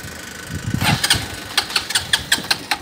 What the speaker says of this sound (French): Parce que si vous mettez la béquille latérale, eh ben, le moteur va pas s'allumer.